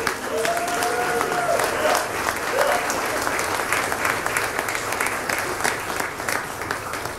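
Steady applause rises from a Fleet Week audience at Gracie Mansion for the sea services, continuous crowd clapping with a brief voice heard over it early on.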